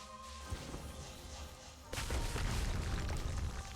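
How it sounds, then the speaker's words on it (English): Explosive barrels blow up in a video game, a sudden loud boom that rises into a sustained roaring rumble over existing ambient noise. "There goes the explosive barrels."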